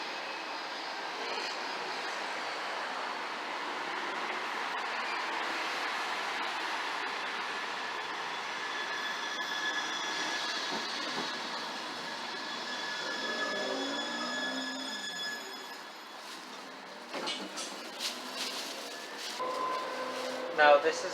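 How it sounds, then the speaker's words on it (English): Siemens Avenio electric tram running through The Hague, a steady electric whine with tonal motor hum rolling past at moderate distance, wheel and rail noise building, then a few sharper clacks near the end. "Now this is a Siemens Avenio tram."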